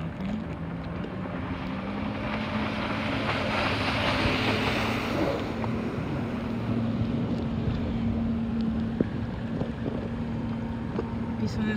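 Jet ski out on the water off Dubai, a continuous engine drone under heavy wind buffeting and splashing water, loud and close throughout with no clear break.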